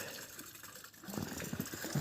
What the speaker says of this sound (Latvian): Un šis ir ūdens sūknis.